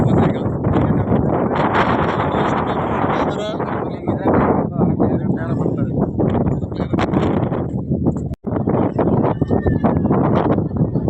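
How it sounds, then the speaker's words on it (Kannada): Strong wind on the hilltop at the Revanasiddeshwara temple, Kanakapura taluk, Ramanagara district, roars loudly and steadily across the microphone in continuous gusts, with a brief dropout near the end. "ಬೆಟ್ಟದ ಬಲು ದೊಡ್ಡದಾದ ಗಾಳಿ"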